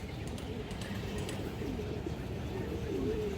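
Black-necked pigeons cooing at a farm, soft low rolling coos repeating under a dense bed of background noise, with a few faint clicks and taps.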